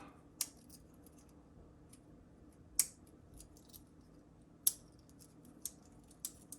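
A pocket multitool folded shut and opened into spring-loaded pliers gives several sharp metallic clicks and snaps, spaced apart in a quiet room.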